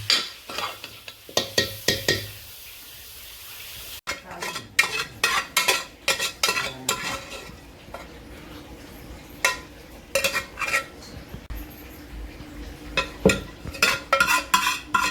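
Onions and masala roasting in a pan on a village wood-fired stove, stirred with repeated rhythmic scrapes and metallic clinks of a spoon over a low sizzle, close and fairly loud.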